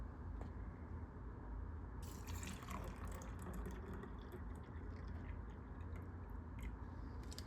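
Water poured onto sugar for an MRE coffee drink, a faint, continuous trickling fill with soft splashes at low volume, no voices.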